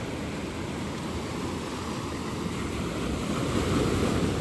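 Sea waves wash onto a beach in a desert setting, a continuous broadband surf roar mixed with wind buffeting the microphone, growing slightly louder toward the end.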